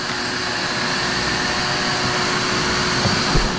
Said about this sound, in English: Put our vacuum in place.